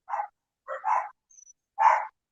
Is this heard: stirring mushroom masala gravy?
no